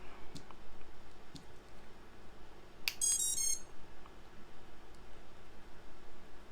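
Tricopter electronics beep after a 4S battery is plugged in: a short cluster of high, thin beeps in the middle of an otherwise quiet, faintly hissing room.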